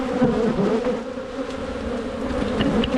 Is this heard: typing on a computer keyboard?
no